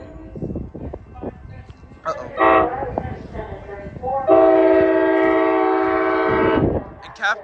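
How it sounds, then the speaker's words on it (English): An Amtrak Capital Corridor passenger train, eastbound for Sacramento, passes close by with rumbling wheels, then blasts its horn in two bursts, a short one and a long sustained chord, with faint talk early on. "here comes Amtrak Capital Corridor Train 734"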